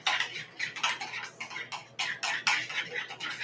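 Spoon scraping and clinking in a bowl while stirring everything seasoning into a vegan Reuben filling, a quick series of close, bright taps and scrapes without pause.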